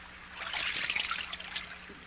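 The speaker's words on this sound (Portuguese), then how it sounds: "Pessoal, é água! Água!" Water trickling and pouring, a soft bubbling dribble that swells for about a second then thins out, quiet and close with no talk.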